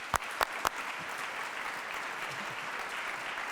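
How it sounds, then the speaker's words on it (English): A conference audience gives a round of applause for a speaker at a mental health and addiction event, heard as steady, moderately loud clapping that fills the room, with a few sharp claps near the start. "Let's give a great round of applause to Director Nora Volkow."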